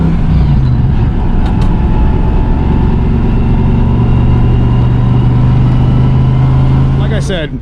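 A car engine with a slight misfire runs steadily, a loud continuous drone with an uneven undertone, ending with a short rattle near the close.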